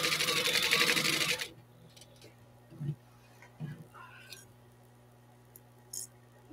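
A sewing machine stitches fabric for pencil cases in a quick, loud burst that stops after about a second and a half, followed by quiet handling clicks and faint rustles.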